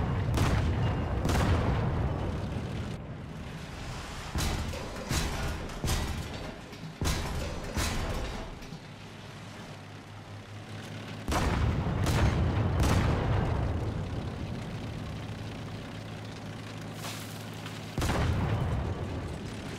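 A tank's main gun fires in the War Thunder video game, several heavy booms spaced a few seconds apart. Each blast rolls off into a rumbling tail over a low engine drone.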